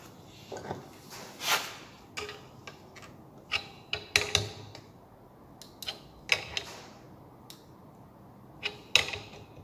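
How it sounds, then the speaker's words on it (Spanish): A gear puller draws the cooling fan off a 15 hp three-phase electric motor, giving sharp intermittent metallic clicks, creaks and scraping rasps at irregular intervals, close and fairly loud, with no talking. "Lo voy a sacar con el extractor para tratar de que no se rompa."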